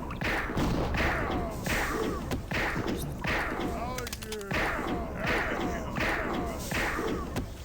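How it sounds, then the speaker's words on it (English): Revolver shots fired in the Redneck Rampage shooter game, a regular series of sharp cracks about every half second, mid-loud, with faint game effects between them. "I'll just snipe with the revolver because I want to save my AK ammo for"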